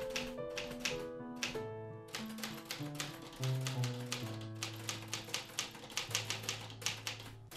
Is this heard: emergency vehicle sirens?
no